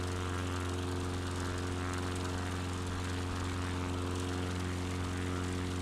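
Steady droning propeller engine of a bush plane in a flight simulator game, a constant close hum with no talk.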